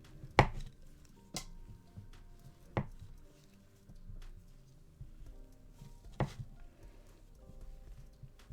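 A knife cuts through room-temperature butter on a board, making scattered soft knocks and a few sharper taps as the blade meets the surface, spaced irregularly over quiet background.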